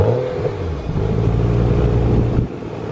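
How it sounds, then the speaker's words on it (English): A Toyota Prius engine runs through its stock exhaust with a steady, low, droning hum, heard close and alone for a few seconds with a slight dip near the end. "we're gonna get rid of that Prius sound."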